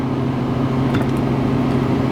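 A GE refrigerator running, giving a steady low mechanical hum with broadband noise that stays constant throughout the short stretch, fairly close and with no talking.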